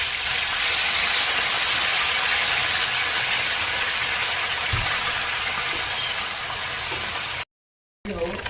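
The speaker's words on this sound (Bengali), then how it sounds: "এবার মাছগুলো দিয়ে দেবো আস্তে আস্তে করে।" Pieces of sakhi fish, being made for mustard curry, fry in hot turmeric-tinted oil with a steady, loud broadband hiss that holds throughout, then cuts out briefly near the end.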